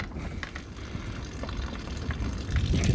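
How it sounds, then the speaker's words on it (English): Fresh water drains from the nozzle of a 2019 Burstner Lyseo 728G motorhome's 20-litre tank, a steady close splashing gush that swells slightly toward the end, with no voices over it. "you can see it pouring out of the bottom there"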